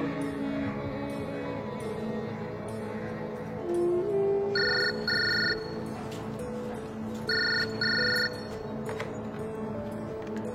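A phone on an outgoing call gives two paired ringback tones, spaced apart, with the second pair repeating the first. They sound over a quiet room with faint background sounds.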